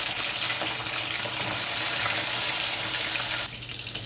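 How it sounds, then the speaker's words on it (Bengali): Hilsa fish frying in hot mustard oil, a dense, fairly quiet hiss that stays steady and eases off near the end, with no voices. "তেল গরম হয়ে গেছে, আমি মাছগুলো ভেজে নেব।"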